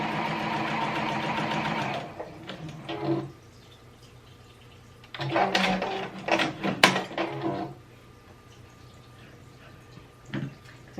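Juki HZL-DX7 sewing machine stitching at a quarter-inch setting in a steady buzzing run, then stopping, followed by a second burst of stitching with clicks and rattles, close by.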